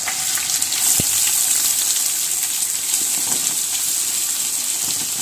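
Chopped onions and green chillies sautéing in a pan until golden brown, a steady close sizzle and crackle with occasional stirring clicks throughout.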